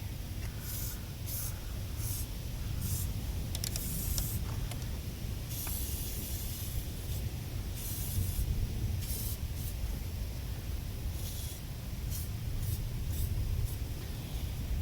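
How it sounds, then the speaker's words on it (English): Protective coating is sprayed from an aerosol can onto exposed wires on the batteries of a 2010 RAM 2500 pickup, a series of close, loud hissing bursts of varying length with short pauses between them. "we're gonna spray any exposed wire we see"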